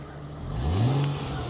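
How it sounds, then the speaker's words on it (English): A 2005 Chrysler Crossfire convertible revs once, its engine note climbing smoothly from a low idle hum to a higher whine before easing off. The rev is close and moderately loud, with no voices over it. "Rev the engine for me, Greg."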